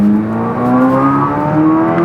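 A 2023 Corvette Z06 at close range, loud and steady, with a smoothly rising engine note and a faint crackle from the exhaust. Distinct separate pops are not clear.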